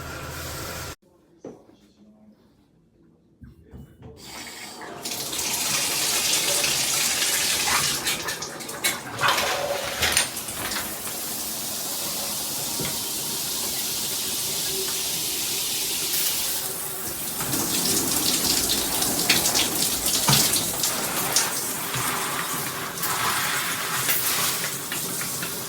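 A Jcrob 12-inch rain shower head sprays water in a bathroom, a steady loud hiss of falling water that starts after a brief quiet pause and continues unbroken, swelling slightly partway through.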